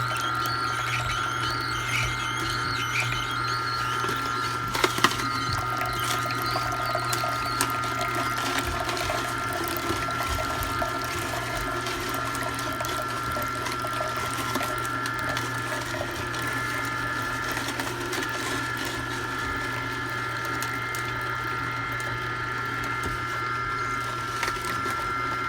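An electric juicer runs with a steady, constant whir for the whole stretch, punctuated by occasional small clicks and knocks, close by and alone without talk.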